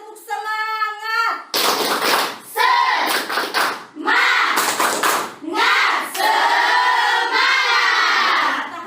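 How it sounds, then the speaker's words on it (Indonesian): A classroom of students chant and clap in unison in a rhythmic spirit clap, loud voices and claps rising in repeated bursts with a teacher calling out before they start. "Kalau begitu kita tepuk semangat dulu."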